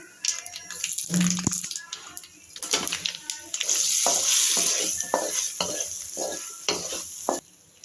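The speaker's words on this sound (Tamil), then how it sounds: "அதில் காய வச்சு கடுகு, சீரகம், உளுத்தம்பருப்பு தாளிச்சிக்கலாம்" Mustard seeds, cumin and urad dal tempering in hot oil for an oil-brinjal kuzhambu, with close crackling sizzle, sharp pops and stirring clatter running steadily throughout, no voices.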